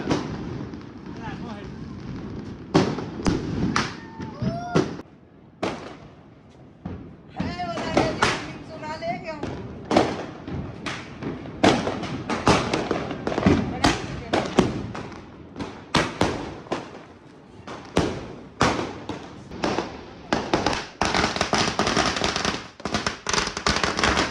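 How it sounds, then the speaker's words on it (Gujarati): Diwali firecrackers burst in a street, a dense run of sharp, loud bangs and crackles going off close and farther away in quick succession, with people talking in between. "આજુબાજુ ફટાકડા ફૂટે"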